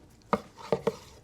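A brisket knife slices down through smoked brisket, giving three soft, close knocks on the board with short gaps between them.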